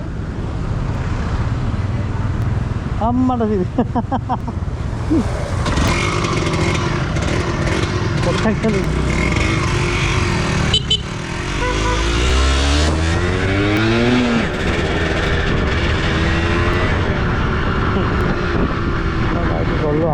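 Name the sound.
Bajaj Pulsar NS160 motorcycles revving and passing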